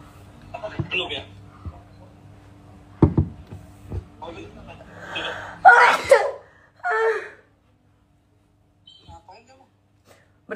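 A single sharp human sneeze bursts out near the middle, loud and close, set among scattered indoor noises and short vocal sounds.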